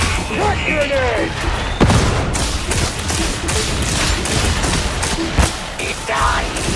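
A crack grenade blasts in the Warhammer 40K Darktide game amid combat, a sharp thudding burst near two seconds in and another heavy thump later, set against ongoing gunfire and clatter.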